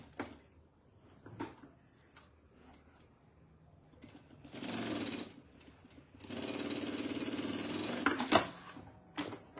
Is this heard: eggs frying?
no